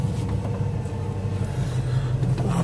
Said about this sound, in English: Try and get around all this traffic.